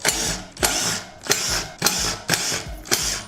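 A power tool or impact driver whirs in six evenly spaced bursts while brake rotor bolts are removed from a Surron electric dirt bike wheel, close and fairly loud with no talking.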